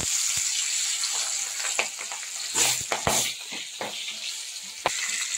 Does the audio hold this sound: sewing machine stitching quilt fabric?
no